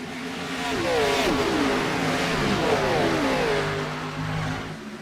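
Several iRacing stock cars accelerate hard on a restart at Dover Motor Speedway, loud mid-pitched engines rising and shifting in overlapping sweeps as the pack pulls away, with no talk.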